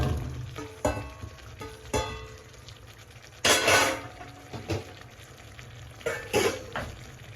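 Chopped garlic and drumsticks frying in a pan: a steady low sizzle under sporadic close utensil clinks and stirring scrapes, with one louder burst of sizzle midway.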